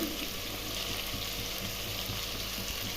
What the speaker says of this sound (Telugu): ఇప్పుడు బెండకాయ ముక్కలు ఇది ఇలా బంక రాకుండా వేగిపోయాయండి